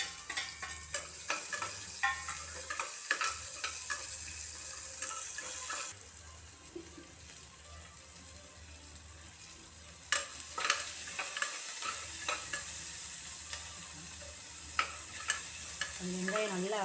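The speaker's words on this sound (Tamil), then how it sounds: "வெங்காயம் கொஞ்சம் போட்டு தாளிச்சுக்கோங்க." Onions sizzling in hot oil with dried red chillies in a tempering, a steady crackle broken by repeated spoon scrapes and clanks against the pan, which dip briefly quieter before stirring resumes.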